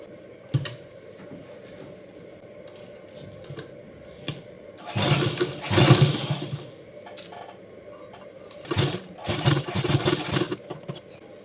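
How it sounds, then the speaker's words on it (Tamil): A sewing machine runs in two short bursts while stitching elastic onto palazzo pants, its motor whirring close by between quieter pauses, with no talking. "இப்போ எலாஸ்டிக் ஸ்டிச் பண்ணிடலாம்"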